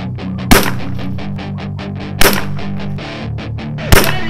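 Three sharp rifle shots from a CZ 457, fired at roughly even intervals, loud and close, each with a brief ringing tail over a low steady background hum.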